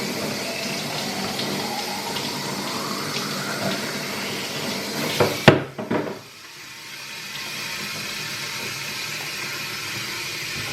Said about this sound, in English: I'm just going to fill this with just plain water